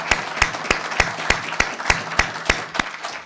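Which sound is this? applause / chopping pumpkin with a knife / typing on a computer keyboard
applause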